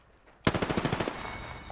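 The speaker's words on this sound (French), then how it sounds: "Ça canarde." Gunfire in the video game Apex Legends: a sudden rapid automatic burst of roughly eight or nine shots in quick rhythm, loud and punchy, trailing off into a faint tail.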